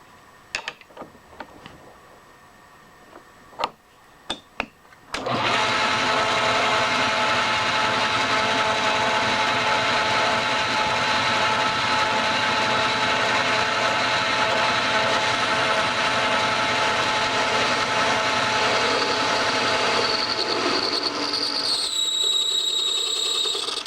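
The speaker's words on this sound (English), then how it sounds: "Probably we could do it with the cutoff tool." A cutoff tool grinds material from a nut, starting after a few faint clicks and handling sounds, then running as a loud, steady, high whine that holds unbroken for the rest of the stretch.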